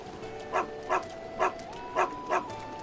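A dog in Zelda: Breath of the Wild barks five times in an even rhythm, each bark short and clear over quiet game background tones.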